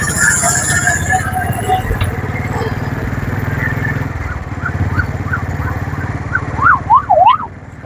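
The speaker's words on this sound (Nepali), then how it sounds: "एम्बुलेन्स दुईवटा एम्बुलेन्स गइरहेको छ।" Two ambulances pass in Kathmandu Ring Road traffic, their wailing sirens rising and falling toward the end over a steady motorcycle engine rumble and road noise, with a voice speaking partway through.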